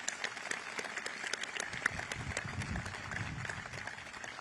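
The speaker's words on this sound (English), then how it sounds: "Let's give your mom a big round of applause" Applause from an audience at a US military change-of-command ceremony, faint and fairly distant, a steady patter of many hands clapping throughout.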